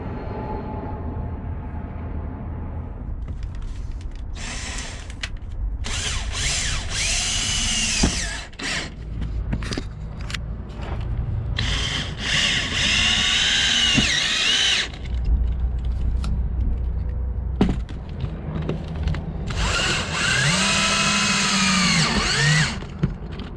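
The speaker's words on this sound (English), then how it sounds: "I got some self-tapping screws, run a few in there" A power drill drives self-tapping screws into a wooden floor inside a van under conversion, sounding as loud, whining bursts of several seconds each that rise and fall in pitch, with short gaps between screws.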